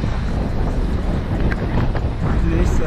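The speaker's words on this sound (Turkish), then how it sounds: "Felaket bir ses var, rüzgar var." Steady, loud wind buffeting a microphone while a unicycle is ridden outdoors, a broad constant roar filling the whole clip with no clear voices over it.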